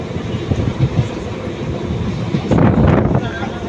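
A train running past Shoranur in Kerala, heard from on board as a loud, continuous rumble and rattle of rolling wheels, with the clatter swelling briefly toward the end, close and steady throughout.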